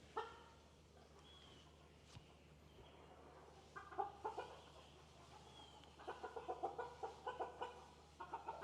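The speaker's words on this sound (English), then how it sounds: "another rooster just walked in there." Chickens and roosters cluck in a farm setting, faint low clucks at first, then short bursts of rhythmic clucking grow louder and more frequent toward the end, over a quiet background hum.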